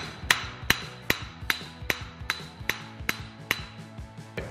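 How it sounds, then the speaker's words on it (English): A hammer taps on the driveshaft yoke of a Toyota Tacoma to seat the carrier bearing, striking about ten sharp metallic blows in a steady rhythm with ringing after each hit, close and clear without speech. "take a hammer and tap the yoke, and that'll tap the carrier bearing and slide it over to where it needs to be"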